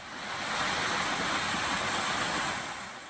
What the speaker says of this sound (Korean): 내리막길을 한참 내려오니 계곡 물소리가 크게 들립니다.